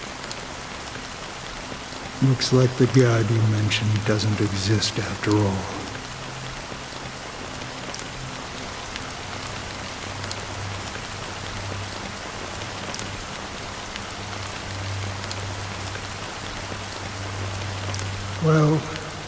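Steady rain pours on surfaces in Penacony from a video game, a dense continuous hiss with a low hum beneath, while voices speak over it near the start and end.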